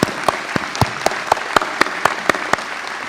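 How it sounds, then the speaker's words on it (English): Commencement audience applause for the behind-the-scenes team comes as distinct, evenly spaced claps in a quick, steady rhythm, close and fairly loud, with no voices. "let's show our love with a round of applause for all the behind-the-scenes team"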